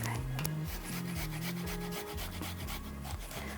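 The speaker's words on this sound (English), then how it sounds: "So now I'm going to grate this." Fresh ginger root being grated by hand, giving a steady rasping rub that runs the whole time, loud and close, with a low hum underneath and no talking.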